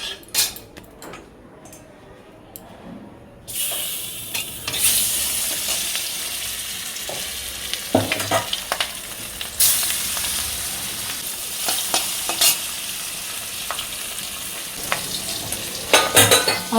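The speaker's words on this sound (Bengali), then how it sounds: "কড়াই গরম হয়ে গেছে, তেলও গরম হয়ে গেছে, মাছটা ছেড়ে দিই" Fish sizzles in hot mustard oil in a wok, starting with a sharp burst of frying as it goes into the pan. Steady crackling spatter follows, with occasional clinks of a utensil against the wok.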